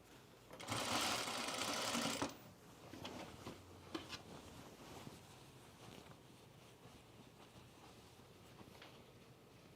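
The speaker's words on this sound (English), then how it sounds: "Now I could top stitch my French seam down." A home sewing machine runs a short, steady burst of top stitching along a French seam on a pair of pants, then falls quiet with light handling noises afterward.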